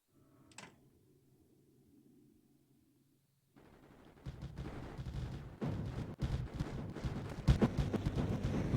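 Laser turrets in Mindustry open fire after a quiet stretch, a dense, loud run of sharp cracking shots and bursts that builds and grows steadier toward the end.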